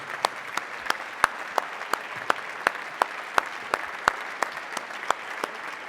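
Sparse, rhythmic audience clapping at a startup demo day, steady sharp claps repeating at an even pace over a soft background murmur.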